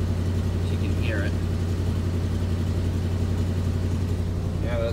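A 1988 Chevy R30 truck engine idles after a cold start on three-year-old gas, a steady low rumble holding close and even throughout with a couple of faint high chirps over it.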